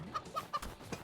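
Chicken clucking in the video game Moving Out, three or four short quick clucks in a brief burst, fairly quiet.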